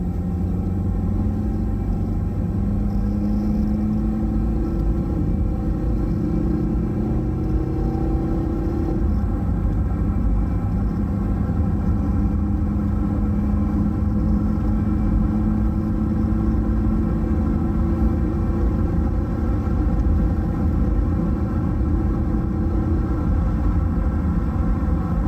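Toyota Corolla with an A240L automatic transmission cruising up a road on a cold engine, a steady low rumble of engine and road noise running throughout with a gear change partway, no talking.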